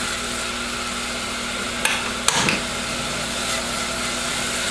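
Onions cooking in oil in a pan give a steady, even hiss, broken by a couple of brief clatters midway.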